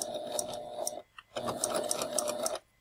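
A sewing machine stitches fabric in two quick bursts of rapid, rhythmic needle clatter with a motor whine, separated by a brief pause, heard close and alone.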